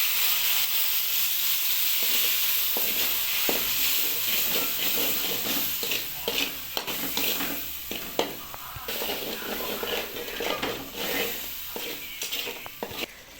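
Water poured onto hot spices in a pan for chicken kasha sets off a loud, bright hiss and sizzle that slowly fades, broken by scattered clicks and scrapes of stirring close by.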